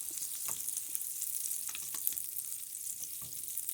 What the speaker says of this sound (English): Alright, let's get this butter melted.